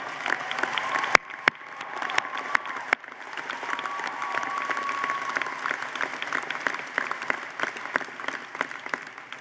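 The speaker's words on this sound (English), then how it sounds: "Let's give them a round of applause." A university commencement audience applauds faculty and staff, with a few sharp isolated claps at first swelling into sustained, moderately loud clapping from a large crowd in a hall, with faint scattered cheers.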